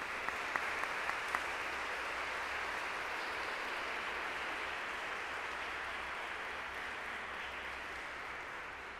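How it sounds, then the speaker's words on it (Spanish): A congregation at a Spanish-language Sunday Mass applauds for a baby girl, a soft, steady wash of clapping heard from a distance in a reverberant church, with a few sharper claps near the start. "Un aplauso para esta niña bebé."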